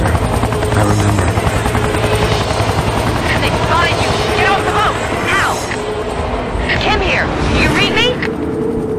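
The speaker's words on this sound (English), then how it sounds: "The helicopter." A helicopter in the video game XIII, a loud, steady rotor drone that runs through the whole stretch, with game sounds and voices layered over it.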